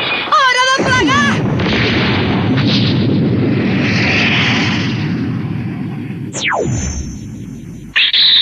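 A loud, sustained cartoon explosion roars on for several seconds, with zany whistling and sliding effects at the start and a descending whistle near the end.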